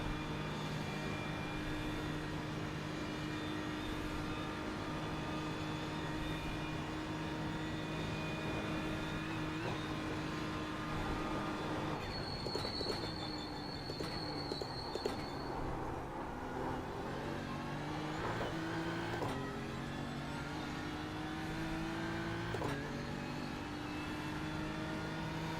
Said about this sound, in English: My engine's really loud